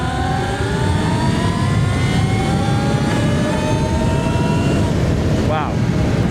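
Altis Sigma electric motorbike accelerating hard in sport mode, a rising whine climbing steadily in pitch under heavy wind roar, with a rider speaking over it.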